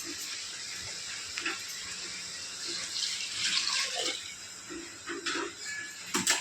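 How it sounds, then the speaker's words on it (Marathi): Hot water poured into mutton in a pressure cooker while making a Satara-style spicy mutton curry gives a steady, soft splashing pour that swells in the middle and ends with a few louder clatters, fairly close by. "आता याच्यात गरम पाणी टाकायचं आपण."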